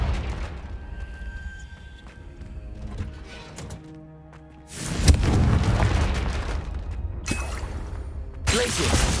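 Confringo fire spell blasts in Hogwarts Legacy, heavy booming impacts that swell into loud rumbling bursts over ongoing game sounds and faint music.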